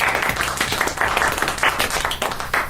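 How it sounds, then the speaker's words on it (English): A studio audience gives a gentle round of applause for new Formula 1 world champion Lewis Hamilton, dense steady clapping held close and fairly loud throughout. "A gentle round of applause, not too close to the microphones, please"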